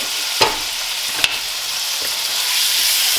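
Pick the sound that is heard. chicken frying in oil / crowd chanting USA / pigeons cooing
chicken frying in oil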